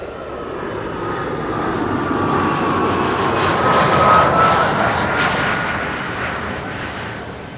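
A jet airliner landing at Schiphol airport, a loud, sustained engine roar that swells as the aircraft passes close by and then slowly fades, with a whining tone running through it. No one talks.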